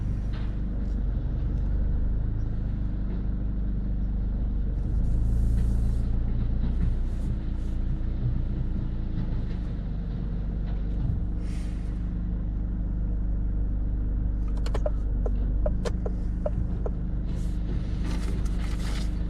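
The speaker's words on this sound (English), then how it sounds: "just got past the dustbin lorry there now" A dustbin lorry on a one-way residential street rumbles steadily nearby as a car creeps past, its deep engine drone joined by occasional hisses and clanks.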